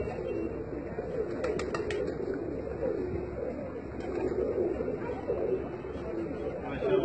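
A pigeon sitting on a rooftop in a housing scheme coos softly over a few seconds, with a few brief chirps against a murmuring background of people talking.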